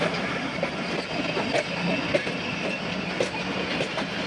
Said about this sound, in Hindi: फिर ट्रेन रवाना होगी यहाँ से।